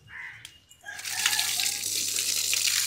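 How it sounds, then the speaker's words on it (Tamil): Tap water runs steadily into a container to fill it for watering a coconut sapling, a continuous splashing rush after a brief clatter at the start, close and loud with no talk. "தென்னம்பிள்ளைக்கு தண்ணி பிடிக்கிறேன்."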